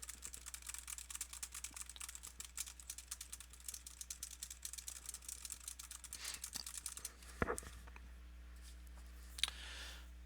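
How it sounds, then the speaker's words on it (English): Rapid, steady keyboard clicking at close range, a continuous patter of keystrokes that pauses briefly near the end before a few final clicks. "I'll start typing something."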